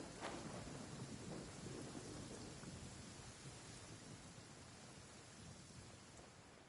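Steady rain pours with rumbling thunder in the Genshin Impact video game, a dense, constant wash of downpour that fades slightly toward the end, with no voices over it.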